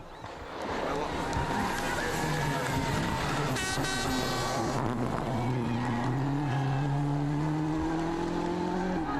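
A Peugeot 307 rally car on the Monte-Carlo Rally, its engine note climbing steadily and loud through the gears as it drives past, while a commentator talks over it.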